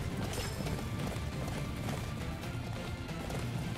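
Rapid hoofbeats of a galloping horse in the video game Attack on Titan: Wings of Freedom pound steadily throughout, dense and loud, with no voices.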